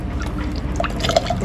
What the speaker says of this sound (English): now I'm going to be pouring this back into this big